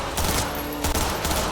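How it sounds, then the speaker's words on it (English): A submachine gun fires rapid bursts in Cyberpunk 2077, loud close-up automatic fire in two or three quick strings with brief gaps. "I'd like to test out the submachine gun though."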